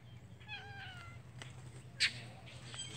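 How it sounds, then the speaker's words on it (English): A house cat meows several times in short, rising and falling calls, moderately near, with a brief sharper sound partway through and a steady low hum underneath. "Oh yeah, my cat."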